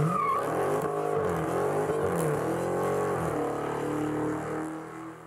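Dodge V8-powered car revving and pulling away, a throaty rumble with sweeping rises and falls in pitch and a hint of tire squeal, fading slightly at the end with no one speaking.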